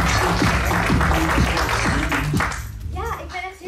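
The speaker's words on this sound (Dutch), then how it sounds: "Maar, Firoza, applaus." Audience applause at a comedy roast, with scattered sharp claps rising over loud voices and background sound, then fading away near the end.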